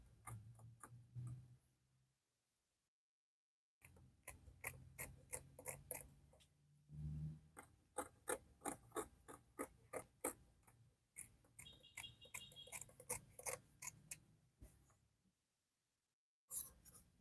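Scissors snip quietly through fabric for a blouse back piece in runs of short, crisp, regular clicks, with pauses and a faint low murmur between bursts.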